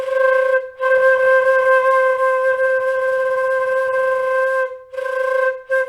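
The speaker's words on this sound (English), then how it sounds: "So there's different ways for you to do flutter tonguing." A flute plays sustained notes with flutter tonguing, a bright rolling buzz on each held tone, in a few long phrases separated by short pauses, close and clear with no talking.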